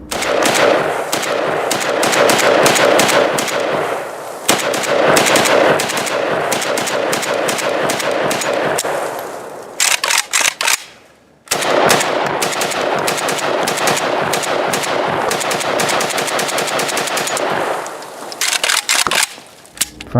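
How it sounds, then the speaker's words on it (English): Soviet-pattern Russian AKM rifles assembled by Legion from original Russian parts fire in long, loud, rapid automatic bursts with brief pauses between strings, close and dominant, with no talk. "These are the Russian, or I really should say Soviet Russian, AKM rifles, assembled by Legion."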